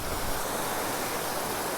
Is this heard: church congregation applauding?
no